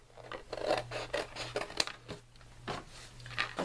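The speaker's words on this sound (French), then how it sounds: "je vais couper un bout de mon carton" Scissors cut through a piece of cardboard in a quiet room. Close, repeated snips and scrapes come in an uneven rhythm, with a steady low hum underneath.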